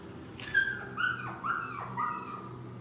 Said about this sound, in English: He's got a doggy.